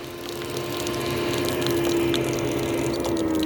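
A small variable speed drive water pump runs steadily, a constant mechanical hum with a steady tonal whine and water rushing as it builds pressure toward target, loud and close with no talk.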